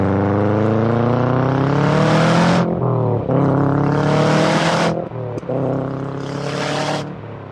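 A Subaru Impreza STI S202 bug-eye accelerating hard through the gears, loud rising engine pitch climbing steeply, cut by three quick gear changes, each followed by another surge, no speech.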